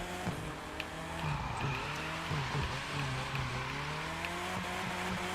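A drift car in The Crew 2 slides through corners with long, wavering tire squeal over a steady engine drone, fairly loud and continuous with no talk.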